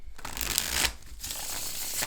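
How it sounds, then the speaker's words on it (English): An oracle card deck is shuffled by hand in two quick riffling bursts of papery flutter, close and fairly loud, with no speech. "I am going to shuffle and pull a card"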